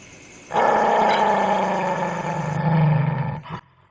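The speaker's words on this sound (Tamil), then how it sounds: "அது நாய் மாப்பிள" Dog growling and barking in a Tamil short film scene, a loud, harsh, sustained snarling roar close by that runs for about three seconds before cutting off abruptly.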